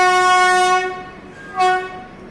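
Indian passenger train overtaking the Mahabodhi Express, a loud, close, sustained train horn blast that fades and then sounds again briefly over rolling track noise.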